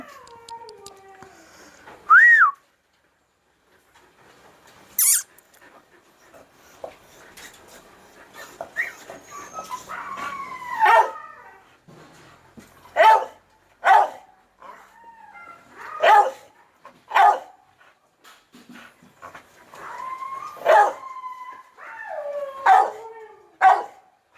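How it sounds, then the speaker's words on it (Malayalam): Siberian Husky, Doberman and Beagle puppies whimper with high, wavering cries and let out several sharp yips and barks, close by, in uneven bursts. "അവിടെ പപ്പീസ് ഉണ്ട് കേട്ടോ"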